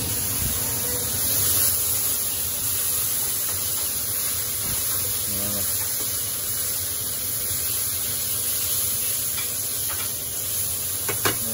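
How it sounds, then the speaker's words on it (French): Bacon fries hard with pepper in a pan for spaghetti carbonara, a loud, even, continuous sizzle and hiss that holds steady throughout with only faint occasional clinks. "Le bacon qui revient fort avec le poivre, ça donne un bon goût"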